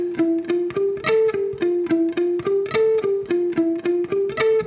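Distorted electric guitar plays a slow alternate-picked lick, each note picked distinctly in an even, repeating rhythmic pattern, clear and up front with no talking.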